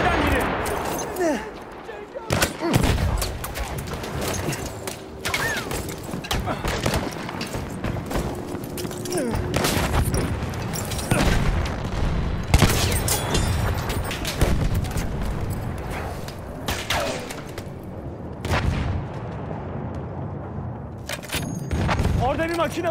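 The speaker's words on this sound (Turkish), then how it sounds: "Orada bir makinalı tüfek var." Rapid bursts of machine gun fire crackle loudly and almost without pause through a Battlefield 1 battle scene, with explosions and booms mixed in and voices speaking now and then beneath the gunfire.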